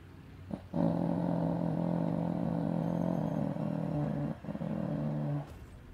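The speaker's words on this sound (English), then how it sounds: "get away from me, dog" A dog growls in the video game Remnant 2, a loud, low, rumbling snarl held for nearly five seconds, close up, with a brief break midway and no talk over it.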